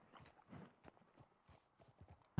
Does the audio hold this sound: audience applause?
no